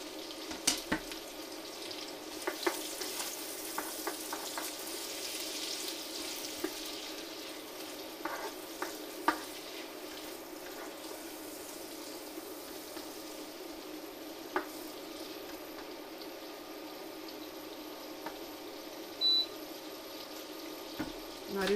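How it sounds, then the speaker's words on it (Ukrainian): Steady sizzling of onion frying in a pan, with occasional stirring clicks and scrapes over a continuous hiss. "Смажимо до прозорості."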